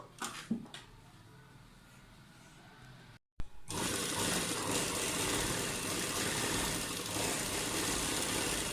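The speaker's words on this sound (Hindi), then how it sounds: "अब हम यहाँ से सिलना शुरू करते हैं इसको।" A sewing machine stitches a lined loose palazzo, running steadily and loudly after a brief pause, with its continuous mechanical whir close up.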